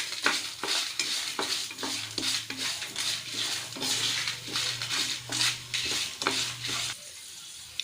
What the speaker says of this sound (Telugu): ఇప్పుడు ఇందులో 4 ఎండుమిర్చి వేసుకోవాలి. వీటిని కూడా వేయించుకోవాలి.